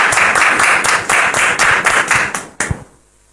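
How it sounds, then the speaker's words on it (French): Audience applause on a French-language talk-show set, rhythmic synchronized clapping in even beats for about two and a half seconds, then a final clap or two before it stops into quiet. "Sous vos applaudissements, s'il vous plaît."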